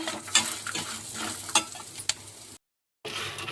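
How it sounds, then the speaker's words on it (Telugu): Dried red chillies frying lightly in a pan for a breakfast chutney, giving a soft continuous sizzle with occasional stirring scrapes and clicks, then a brief silent gap before the sizzle resumes. "ఇవన్నీ లైట్గా ఫ్రై అవనివ్వాలి"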